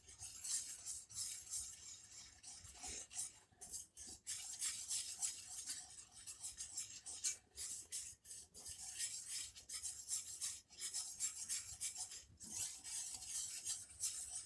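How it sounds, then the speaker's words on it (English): Quiet, close whisking of a homemade white gravy, a rapid rhythmic scraping and swishing of a whisk against a pan with brief pauses, no talking. "You definitely got to whisk this one"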